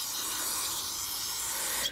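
Throttle body cleaner sprays from an aerosol can into a push mower carburetor, one steady close hiss held for nearly two seconds before cutting off.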